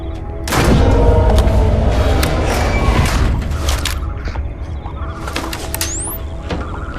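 Rotakeeper gun fire in the video game Zoochosis, aimed at an infected penguin or ostrich: loud, dense bursts of shots run through the whole stretch with a rising whistle near the end, no talk.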